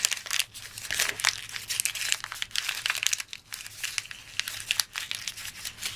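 Tin foil is crumpled by hand at close range, giving a dense, crisp crinkling in bursts with brief pauses and no talk.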